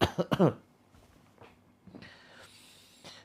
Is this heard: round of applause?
no